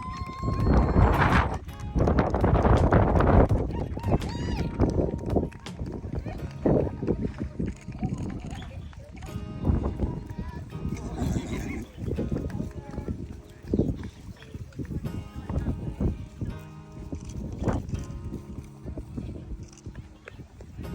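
Horses trot at an equestrian show in Norfolk as a group rides round with rosettes, hooves clip-clopping in loose rhythm over outdoor ambience, with voices talking throughout.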